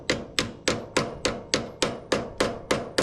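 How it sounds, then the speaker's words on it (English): Nine sharp, evenly spaced hammer blows ring out close up, driving a small rubber mount onto a drop axle for a roadster pickup hot rod, each strike loud and then quickly decaying. "get the little rubber mount. Hammer it all the way on."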